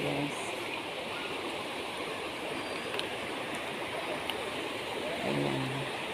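A river flows in a rural Philippine setting, cutting into the riverbank where bamboo has fallen in. The water gives a steady, broad rushing wash throughout.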